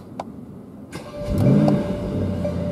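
A 2018 Mercedes-AMG E63 S Wagon engine cranks and catches, then flares into a loud extra rev that settles into a steady, rumbling idle, heard close up with no talking.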